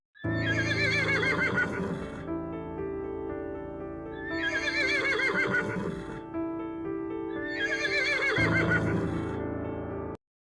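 Three horses, readied with travel gear for a journey, whinny loudly three times in long rising-and-falling calls spaced across the stretch, with a steady low rumble that may be faint hoofbeats underneath.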